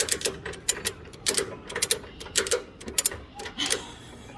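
Ratchet strap being tightened to hold down a vehicle: a run of sharp, rapid mechanical clicks in quick bursts, fairly close and moderately loud, with a brief pause between pulls.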